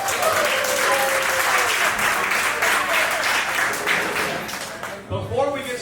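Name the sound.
audience applause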